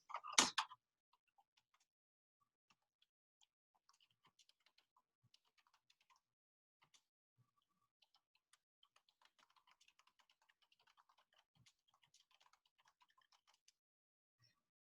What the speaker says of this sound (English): I'll type this.